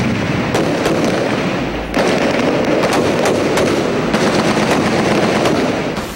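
Heavy gunfire erupts as government troops clear a barangay in Marawi City held by Maute militants: loud, dense bursts of rapid shots and sharp cracks, continuous and close, over a constant rumbling background.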